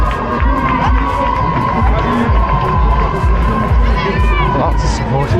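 A dense crowd lining the Paris Marathon course cheers and shouts continuously at close range, with children's voices, whoops and rhythmic clapping bursts over a steady roar as runners pass through.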